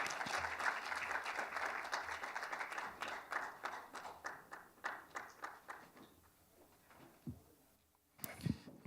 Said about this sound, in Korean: 큰 박수와 함께 무대 위로 모시도록 하겠습니다